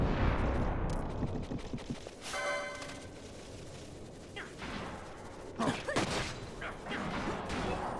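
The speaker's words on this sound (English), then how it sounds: "That sound effect of the cannon fire" Cannon fire booms in the Final Fantasy XII desert battle, a series of heavy blasts and crashes amid clattering game effects and music, fairly faint overall.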